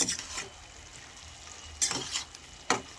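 A spatula stirs a mixed vegetable curry in a pan over a soft sizzle, with three distinct scraping strokes spaced apart, close and clear, and no voices.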